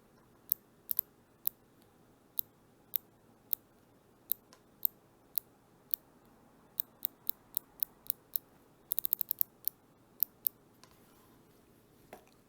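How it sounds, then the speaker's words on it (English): A MAT AG5 watch bezel turns with sharp metallic clicks ringing out one by one at an uneven pace, with a quick burst of several clicks near the end, close and crisp against quiet. "I love the sound of the bezel turning."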